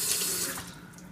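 Cold water runs steadily from a kitchen tap in a constant bright hiss, close and moderately loud, gently easing off toward the end while something is wetted under the stream.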